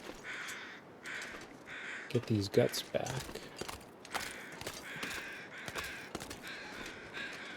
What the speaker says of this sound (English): I think I heard ptarmigans